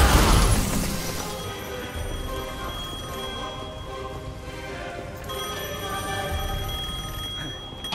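Telephone ringing in the video game Devil May Cry 5, a sharp bell ring opening loudly then a sustained ringing tone with bright overtones continuing for several seconds, no voices over it.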